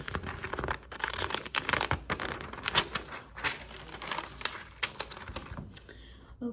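Close, crisp scratching of a pen writing in a schedule book: bursts of quick strokes separated by short pauses, soft and intimate, with a quiet voice speaking at times.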